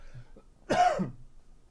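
A single short cough, close and fairly soft, in an otherwise quiet room.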